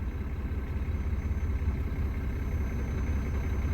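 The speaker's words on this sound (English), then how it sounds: "Oh, see, now we're idling funny again." A car engine idles unevenly with one fuel injector switched off, producing a steady low rumble with a faint lumpy, pulsing beat, fairly quiet and with no talk.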